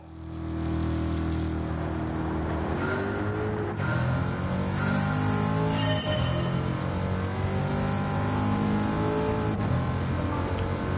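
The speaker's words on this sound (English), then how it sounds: "Of course, this is one of Yak's favorite cars, Corvette C7" A Corvette C7 race car in a racing video game, its engine droning loud and steady throughout with rising gear-shift sweeps and revs, no talking over it.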